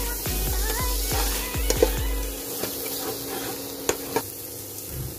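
Chopped tomato and ground spices frying in a pan for a potato curry, with a loud hiss and a run of quick spoon scrapes early on, then a softer sizzle with occasional taps.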